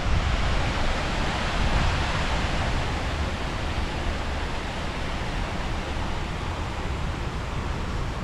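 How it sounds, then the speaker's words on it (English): A waterfall in downtown Knoxville, Tennessee, rushes as a steady, dense roar of falling water that holds at an even level throughout, with no voices over it. "And there goes the waterfall."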